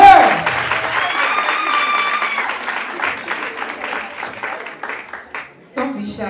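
Applause from an audience at a school education fair, a steady wash of clapping that thins out over several seconds, mixed with crowd noise and a voice speaking over it.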